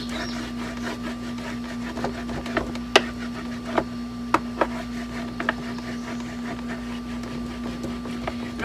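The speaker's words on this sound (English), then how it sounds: "I'm just gonna rub the wax both ways to get it all inside the grains of the wood." Furniture wax being rubbed by hand into the wood grain of a dresser, soft repeated scratchy strokes and occasional sharp knocks over a steady electrical hum, close and fairly quiet.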